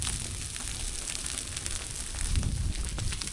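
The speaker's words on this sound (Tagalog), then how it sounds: "Grabing lakas ng apoy." A strong fire, fanned by wind, roars and crackles steadily, a dense broadband rush with scattered pops, growing slightly louder near the end.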